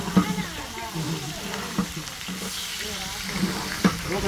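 Onions fry in a large pot for a homestyle mutton curry, with a sizzle under frequent stirring thumps and metallic knocks, and other voices faintly in the background.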